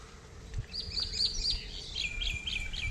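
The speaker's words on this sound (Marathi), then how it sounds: "पक्षी केवढे आहेत." Small birds chirp and tweet by a creek, with quick high calls repeating in short bursts over soft outdoor ambience and no voices.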